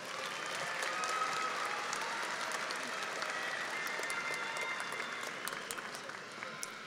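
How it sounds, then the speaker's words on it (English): A commencement crowd at Angelo State University applauds steadily for the graduates, a fairly distant, even wash of clapping that holds for several seconds before easing slightly. "Let's honor these graduates with a round of applause"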